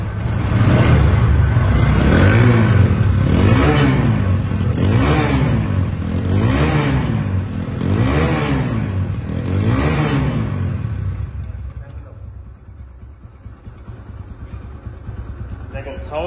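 A 160cc RTR ABS motorcycle with only 500 km on it idles and revs in repeated smooth surges, loud and close, before settling to a steadier, quieter running hum at the end.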